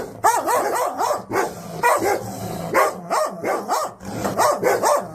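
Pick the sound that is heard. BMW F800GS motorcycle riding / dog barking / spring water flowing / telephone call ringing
dog barking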